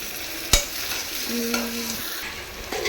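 Raw plantain is sautéed with salt and turmeric in a pan, with a steady close sizzle and spoon stirring and a sharp clink of a utensil near the start, with no talk.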